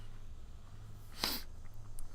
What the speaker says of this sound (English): That was a great sneeze.